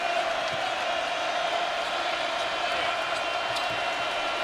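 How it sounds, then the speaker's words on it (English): A basketball arena crowd during a Kentucky versus LSU college game, on its feet and screaming in a steady, dense roar that fills the whole stretch with no break. "now a crowd that is on its feet and screaming"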